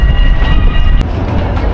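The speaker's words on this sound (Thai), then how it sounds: "ตอนนี้ก็ลงรถรางแล้วนะครับที่สถานี เบนนิงฮอปนะครับโอ้รถรางนี้สวยจังเลย" A tram sits at a station in The Hague, giving off a loud, steady mechanical rumble with a faint high whine and a brief click midway.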